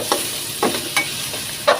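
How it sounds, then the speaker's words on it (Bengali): Garlic paste and spices fry in a pan with a soft, steady sizzle, broken by a few quick scraping strokes of stirring, heard close and fairly quiet. "এখন আমি এগুলো ভালো করে নেড়ে চেড়ে উল্টে পাল্টে দিব"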